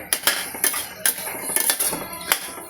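Finely chopped tomatoes and onion sauté in a pan over medium-high heat for prawn biryani, with quick metallic scrapes and clinks of a spoon against the pan, close and loud, no voices.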